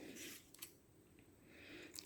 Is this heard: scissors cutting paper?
yes